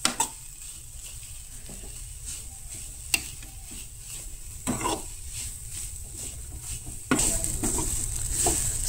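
Masala stuffing for Goan stuffed baby brinjal being stirred and roasted in a pan, a steady dry sizzle with a few sharp utensil knocks and a louder stretch of frying at the end.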